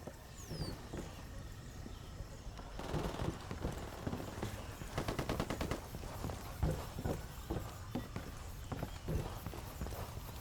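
Bursts of rapid automatic gunfire ring out in the Ghost Recon Wildlands shooter game, cracking amid footsteps and ambient in-game noise, with a voice talking intermittently.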